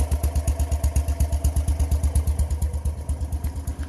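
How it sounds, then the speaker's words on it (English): A BMW Isetta's single-cylinder, 13-horsepower engine putts along at a slow, even beat, each firing pulse distinct and close, with a light mechanical clatter and no voices. "Here's our little Isetta putting around."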